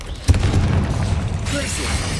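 A Confringo spell bursts with a single sharp boom in Hogwarts Legacy, followed by a rumbling, crackling tail and a brief magical shimmer, with a voice talking during it.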